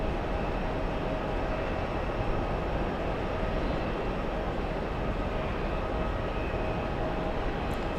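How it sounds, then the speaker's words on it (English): An Embraer E175 jet airliner taxis at an airport, its engines giving a steady, broad whine and rumble that holds level throughout at moderate distance. "Let's go for the E175 taxiing."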